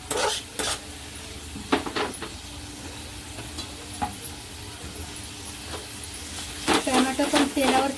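Chopped tomato is stir-fried in a pan for a bitter gourd dish: a low sizzle runs under repeated metal spatula scrapes and clinks against the pan, busiest toward the end.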